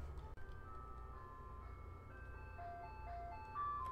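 A tinkly ice cream truck jingle plays a simple melody over a steady low engine rumble in a Minecraft minigame, with no talking.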